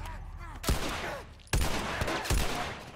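Gunfire in The Last of Us video game: several sharp, loud shots in quick succession with echoing tails, some bursts close together, over a low ambient game background.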